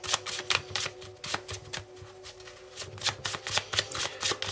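Tarot cards are shuffled close up in a continuous stream of quick riffling flicks and soft slaps, uneven in rhythm, with no talking.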